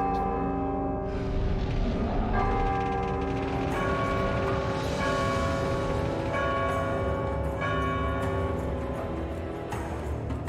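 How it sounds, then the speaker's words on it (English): Bells ring close by, a dense layered peal of sustained metallic tones with repeated strikes blending together steadily and loudly throughout, no talking over them. "I can tell you bells are real. I have bells right next... very close to me."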